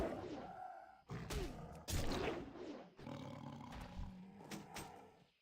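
Deep tiger roars from a video game, several bursts in a row with brief pauses between, loud and close with no talking over them.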